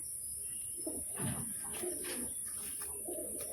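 Soft cooing of a female white-eyed pigeon, a few low rolling coos close by over a steady high-pitched background hiss.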